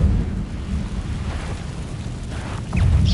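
An Incendio fire spell cast in Hogwarts Legacy, a loud continuous roaring rumble of flames that swells again at the end, heard alone.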